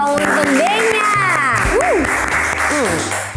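Talk-show audience applauding loudly and close, with voices whooping, cheering and calling out over the clapping throughout.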